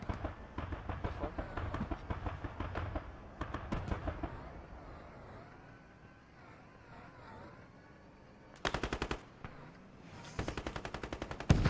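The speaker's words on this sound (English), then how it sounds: "I heard the Bradley shooting as well." Rapid bursts of vehicle cannon fire from a Bradley in a military video game, loud clattering volleys in the first seconds, a quieter lull with distant rumble, then sharp renewed bursts near the end.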